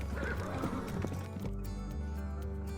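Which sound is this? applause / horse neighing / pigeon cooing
horse neighing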